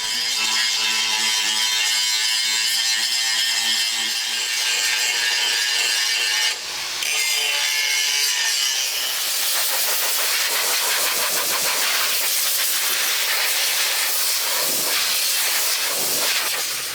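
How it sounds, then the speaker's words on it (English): Power grinder running against metal on a WWI cannon being restored, a loud sustained harsh whine and hiss that shifts into rougher, brighter grinding partway through, continuous and close with no voices. "We'll grind all that off."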